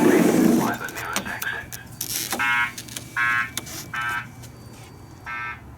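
A building fire alarm test sounds as a repeating electronic tone in four evenly spaced bursts, moderately loud, with a short announcement voice heard before the tones begin.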